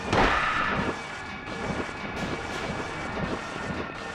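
Gunshots in the horror video game Silent Hill, with a loud sharp report at the start followed by rumbling, reverberant game ambience and a few duller impacts.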